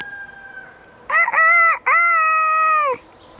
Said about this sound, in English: The roosters are having fun talking back and forth with each other.